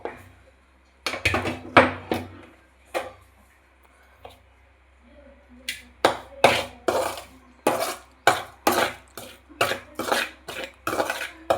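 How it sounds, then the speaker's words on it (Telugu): A sesame and peanut mixture for black sesame laddus being mixed in a pot off the stove, with a run of sharp, rhythmic spoon knocks and scrapes against the metal, near and intermittent, with a brief pause partway through. "దాన్ని కూడా దీంట్లోకి వేసుకొని ఇలా బాగా కలుపుకోవాలి."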